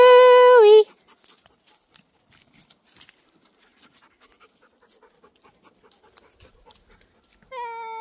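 Chewy the dog pants loudly and rapidly up close as he runs back, with a quiet stretch of faint patter between the bursts of heavy breathing.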